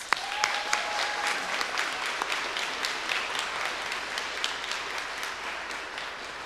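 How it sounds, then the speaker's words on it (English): A round of applause for new inductees at a university nursing pinning ceremony, steady crowd clapping that holds an even level and tapers slightly, with a faint voice briefly underneath. "Let's give our new inductees one more round of applause."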